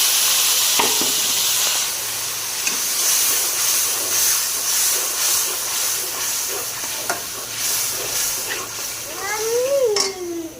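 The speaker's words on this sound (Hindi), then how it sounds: "पेस्ट ही हमने डालना है, हल्का सा और ब्राउन करेंगे।" Spice paste for chicken pulao browning in a pot, giving a loud continuous hiss and sizzle with a few clinks of a spoon and a brief rising squeak near the end. No speech.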